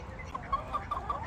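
Farm chickens cluck in a short series of soft, evenly spaced calls over a steady low background.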